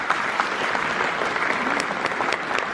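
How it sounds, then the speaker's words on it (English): Audience at a games industry event giving a sustained round of applause, steady dense clapping throughout with no gaps. "while you're at it, while you're clapping"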